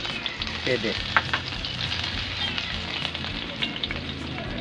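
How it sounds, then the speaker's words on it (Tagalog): Ginger sautés in a hot pan for paksiw na bangus, a loud, continuous sizzle and crackle with occasional sharper pops and light stirring clatter, close and alone. "Manggisa muna tayong luya."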